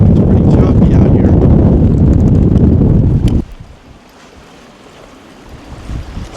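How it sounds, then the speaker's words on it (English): Heavy wind of about 30 on a boat in choppy water buffets the microphone in loud, low, rumbling gusts for a few seconds, then drops abruptly to a quieter background hiss. "Today the wind is blowing about 30, so we're not getting off the boat"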